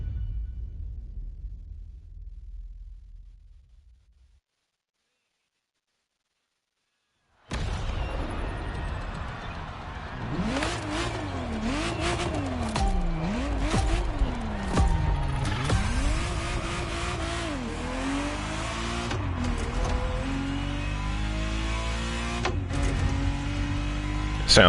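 A Ferrari Testarossa engine in a driving video game revs up and down loudly after a brief silence, the pitch climbing and falling through gear changes with steady road noise underneath.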